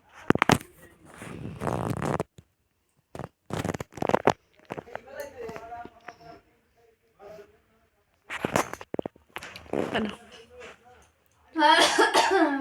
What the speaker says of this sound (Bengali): কাশি হয়ে গেল গো